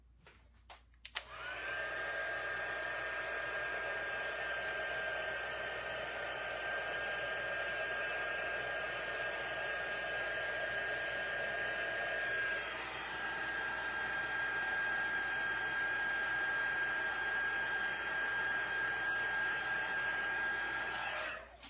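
A hair dryer heats embossing powder on a Halloween paper craft, switching on abruptly and blowing as a steady, close whir with a slight pitch shift midway.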